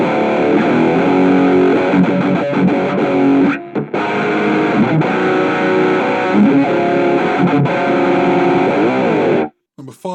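A heavily distorted electric guitar through a Nux Mighty Lite BT II amp modelling a Friedman HBE plays chords and riffs loudly, with a brief gap midway and an abrupt stop near the end.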